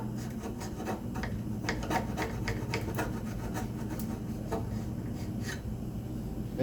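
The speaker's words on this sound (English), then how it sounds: "All you're trying to do is get off the excess epoxy." A scraper rasps across wood to remove excess epoxy from a spice rack, with close, steady strokes in a repeated rhythm and a continuous scratchy texture throughout.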